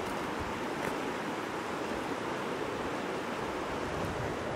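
The Snake River flows through a narrow stretch, a steady broadband rush of moving water that stays constant and fairly soft throughout.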